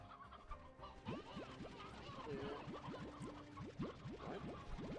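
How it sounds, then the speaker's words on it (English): A rooster in the Slime Rancher video game clucks in a quick, repeated series of short calls, steady and moderately close against a soft game background. "How'd that rooster get out?"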